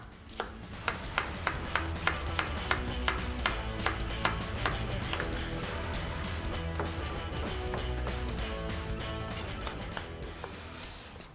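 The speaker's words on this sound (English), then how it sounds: "After we've cut the onions" A knife chopping onions on a board for a Hungarian beef stew with red wine, giving a run of sharp, evenly spaced taps that settles into faster, softer cutting, close up, with faint background music.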